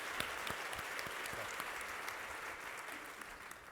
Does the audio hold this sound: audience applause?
yes